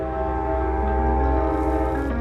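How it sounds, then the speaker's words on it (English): A loud train rumbles steadily nearby with a sustained droning, tonal hum, unbroken across the whole stretch with no voices. "can hear a loud train behind me"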